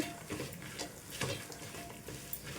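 Spices being stirred into a poha mixture in a pan for crispy atukula mixture, with light scraping and stirring strokes and a soft sizzle, moderately quiet and steady with no talking.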